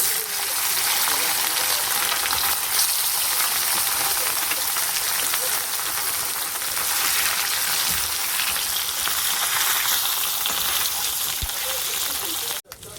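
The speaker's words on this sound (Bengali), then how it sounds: "কড়া গরম হয়ে গেছে, তেল দিয়ে দিয়েছি, সরষে তেল। এবার মাছটাকে ভেজে নেব।" Pieces of rohu fish rubbed with salt and turmeric fry in hot mustard oil in a kadai, giving a loud, steady, close crackling hiss that continues unbroken throughout.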